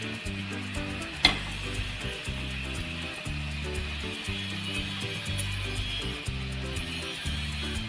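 Banana flower vegetable with fresh grated coconut stirred in a pan, soft sizzling under rhythmic scraping strokes of a spoon, fairly quiet and close, with one sharper clink early on.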